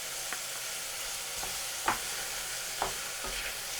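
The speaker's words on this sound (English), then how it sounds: "Okay, I'm going to put in my garlic now. So in goes 2 to 3 cloves of garlic" Garlic cloves dropped into a hot pan for mushroom risotto, a steady soft sizzle with a few small clinks of stirring over it.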